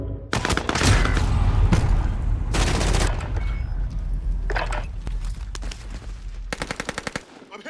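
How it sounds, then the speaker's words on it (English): Loud bursts of automatic gunfire in Call of Duty Warzone, several rapid volleys close by separated by short pauses, ending in a quick rattling string of shots. "Shooting in my back."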